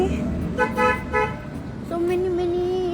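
Busy highway traffic with cars and motorbikes passing nearby, a vehicle horn tooting in short repeated bursts, followed by a sustained engine drone.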